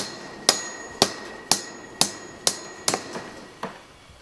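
A hammer drives nails or staples to fix mesh onto an adobe wall during reconstruction, with about seven sharp, evenly spaced strikes roughly half a second apart, close and clear, the last few quicker and fainter.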